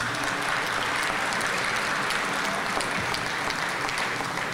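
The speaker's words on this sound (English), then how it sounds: "Please give yourselves a round of applause." Audience at a cannabis regulation workshop claps in a continuous, fairly loud round of applause filling the room from start to finish.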